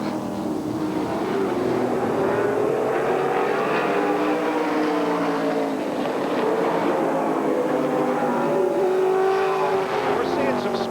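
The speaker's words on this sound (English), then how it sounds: "Kelly Tanner, 65, dives to the inside." Stock cars racing on the oval at Tucson Raceway Park during a 1997 NASCAR Featherlite Southwest Tour event, engines droning loudly and continuously with shifting pitch as cars battle, under steady commentary.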